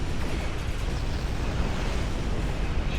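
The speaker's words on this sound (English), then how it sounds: "We have flown through a few explosions" Rumbling explosions inside the Star Trek Online space game, a dense continuous low roar with crackling noise, steady and loud across the whole stretch with no voices.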